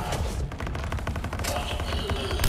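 Rapid bursts of Mass Effect 3 multiplayer gunfire crackle over each other, a dense fusillade of shots with thuds, loud and continuous throughout.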